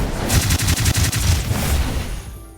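Mystic Barrage spell attack in the video game Dark Deity: a quick volley of sharp, evenly spaced bursts that rattles for about a second and a half, then fades into a short ringing tail.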